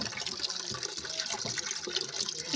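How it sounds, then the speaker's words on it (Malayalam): Peeled taro root being rinsed in water to remove soil, with a steady close splashing and sloshing of liquid throughout and no voices. "നന്നായിട്ട് രണ്ട് മൂന്ന് വെള്ളത്തിൽ ഇതൊന്ന് കഴുകിയെടുക്കണം"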